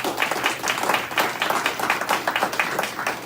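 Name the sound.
audience applause at town hall meeting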